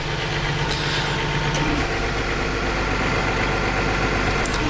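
A tractor engine runs steadily while plowing a field, its loud, continuous low drone and rumble constant throughout, with faint clanks above it.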